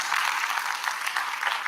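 Crowd applause at a university communication faculty graduation ceremony: a steady, dense patter of many hands clapping, even in level throughout, with no voices over it.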